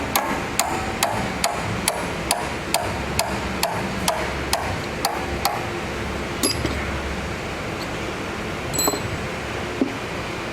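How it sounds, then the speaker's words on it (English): A punch and hammer drive a roll pin out of a Superior Driveline Shaftmaster shaft, giving a regular run of sharp metallic taps up close, about a dozen evenly spaced strikes, then a few scattered knocks. "we'll take a punch and hammer and we will drive the roll pin out"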